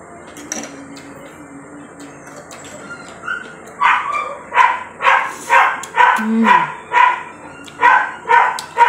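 A dog barks repeatedly in a steady rhythm, about ten clear barks at moderate distance, set in a home during a seafood Korean pasta soup meal, with faint background clatter before the barking starts.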